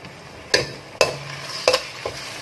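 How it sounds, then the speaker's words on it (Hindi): Garlic-ginger paste and green chilli paste fry with browned onions for aloo gobhi, as a spoon scrapes the pan in four quick, distinct strokes over a soft sizzle. "और इसको अच्छी तरह मिक्स करेंगे, फ्राई करेंगे इसको।"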